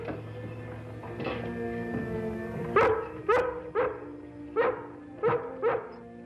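A dog indoors whimpers and whines softly, then lets out a series of sharp, loud barks spaced unevenly, close by with no talk over it.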